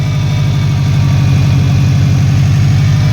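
Car engine idling with a ticking noise on both sides, rpm settling as it warms; a loud, steady close-up rumble with a fine rhythmic tick.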